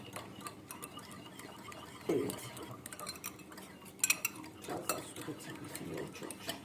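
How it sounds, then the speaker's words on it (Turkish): Kaymak clotted cream mashed with a spoon in a bowl for a yogurt starter, giving steady close scraping and stirring with irregular light clinks of metal on the bowl, fairly quiet and with no speech over it. "kaymağımızı ezmeye gayret gösteriyorum"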